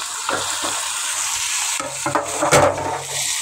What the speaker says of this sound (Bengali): মরিচ কষানো শেষ, আমি মাংসগুলো দিয়ে দিচ্ছি।